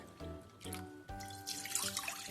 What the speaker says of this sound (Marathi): 2 वाटी कढईत पाणी घालायचं,